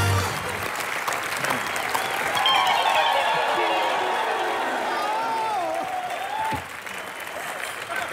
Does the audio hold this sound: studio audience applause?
yes